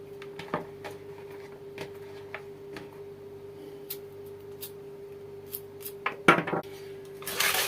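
Light, irregular taps of a knife chopping garlic on a cutting board, scattered clicks over a steady low hum, with a brief clatter near the end.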